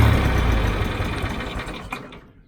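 A John Deere 2510 diesel tractor engine chugs with a dense, rattling knock, then winds down and falls silent as the engine is shut off; no talking.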